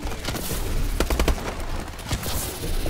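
Rapid automatic gunfire in the video game Call of Duty: Advanced Warfare, a tight burst of four or five loud cracks followed by scattered shots over a dense, noisy battle din.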